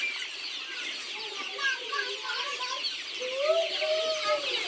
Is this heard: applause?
no